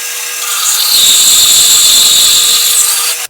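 A bandsaw slices through a wood piece for an ornamental door, a bright, loud whining rasp that swells in, holds steady for about two seconds and cuts off abruptly.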